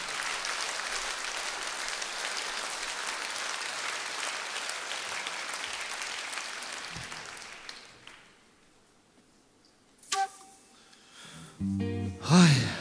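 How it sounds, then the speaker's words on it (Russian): A concert audience gives sustained, dense applause that fades out after several seconds, followed by near quiet and a few scattered louder noises. "Проводим аплодисментами."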